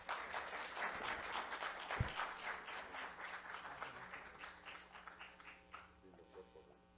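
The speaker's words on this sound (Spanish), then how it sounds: "Un fuerte aplauso, por favor." Audience at a university lecture event in Moquegua, Peru, applauding a historian speaker: sustained, dense clapping from a roomful of people, fairly distant, with voices mixed in and the applause thinning out toward the end.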